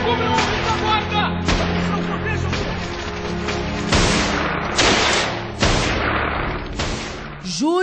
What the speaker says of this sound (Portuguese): Uma luta cruel com fuzis, baionetas e canhões.